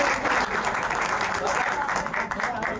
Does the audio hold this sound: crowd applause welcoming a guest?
yes